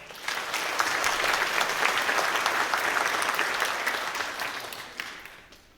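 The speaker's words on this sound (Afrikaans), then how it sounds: "kom ons gee 'n lekker hande klap" Congregation at a church service applauding together, a dense wash of hand clapping that swells and holds steady before tapering off toward the end.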